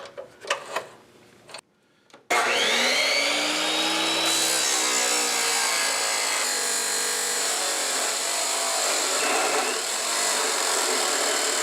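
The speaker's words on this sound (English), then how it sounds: "I'd rather cut it with my chop saw to get a more straight cut" A chop saw bites into a steel bracket for a custom fabricated front bumper on a 1968 GMC, a loud sustained grinding shriek after a few short handling knocks, running steadily to the end.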